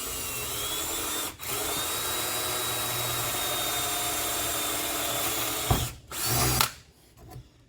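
A power drill bores into the aluminum hood of a 2015–2022 Ford Mustang, a steady high whine held for several seconds with a brief pause, then stopping with a short clatter.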